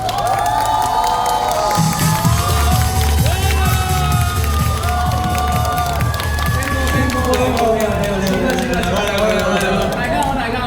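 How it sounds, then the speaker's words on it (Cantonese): Audience at a Samsung Galaxy launch event cheering, whooping and applauding to welcome a guest, a loud dense crowd roar with shouts and overlapping voices filling the whole stretch. "有請大家以最熱烈嘅掌聲歡迎農夫"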